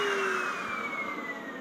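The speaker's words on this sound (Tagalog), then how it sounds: "Kasi parang umiinit na naman yung vacuum" A household vacuum cleaner that is running hot roars steadily and loudly, its whine sliding gradually lower as it winds down after being switched off.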